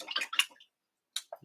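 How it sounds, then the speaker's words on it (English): Paintbrush dipped into a cup of rinse water, a couple of short sloshing swishes followed by a pause and a few faint drips. "dip it into my water"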